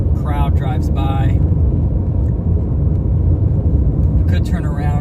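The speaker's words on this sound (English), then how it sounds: "Chaser crowd drives by." Cars of a storm-chaser crowd drive past on a Texas road during a supercell, a loud, continuous low rumble of engines and tires, with voices speaking over it at the start and end.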